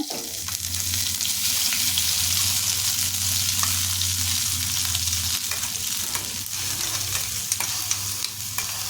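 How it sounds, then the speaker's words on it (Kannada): Ground ginger masala frying steadily in oil in a kadai, a close, continuous sizzle with occasional stirring scrapes and a low hum beneath, no talking. "ಈಗ ಇದು ಶುಂಠಿದು ಹಸಿ ಸ್ಮೆಲ್ ಹೋಗೋವರೆಗೂ ಒಂದು ನಿಮಿಷ ಫ್ರೈ ಮಾಡ್ಕೋಬೇಕಾಗುತ್ತೆ"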